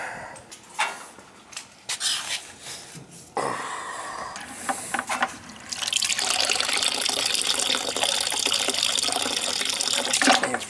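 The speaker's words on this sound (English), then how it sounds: "I'm just draining a little bit out." Water draining from a hydro air heating system, first some scattered knocks and clanks, then a steady loud gushing rush into a container for the last several seconds.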